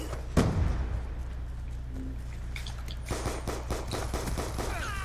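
Gunfire from a pistol in a shooter video game, one loud crack followed after a pause by a rapid string of shots and tinkling effects, heard without speech.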